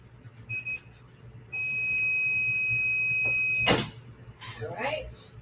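A heat press pressing a sublimation photo slate gives a short beep, then a long steady electronic tone that cuts off abruptly. A person speaks briefly afterward.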